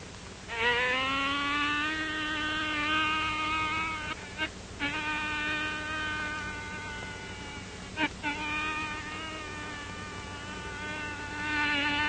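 A voice imitates a buzzing bee in a 1942 Western, a loud nasal humming drone with rising and wavering pitch, held in long stretches broken by two short pauses.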